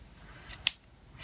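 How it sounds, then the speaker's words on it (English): A single crisp snip of small scissors cutting through yarn while making a pom pom, close and quiet against a near-silent background. "And just snip,"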